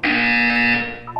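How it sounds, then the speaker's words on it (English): A single loud, steady electronic buzzer tone from the Portal 2 video game sounds for about a second, then cuts off abruptly. "When you hear the buzzer, look up at the ceiling."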